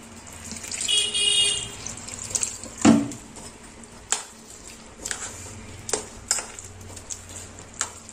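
Breakfast batter of rice and lentils being mixed by hand with a little water in a bowl, soft wet stirring and squelching with scattered clinks and taps, close and moderately quiet.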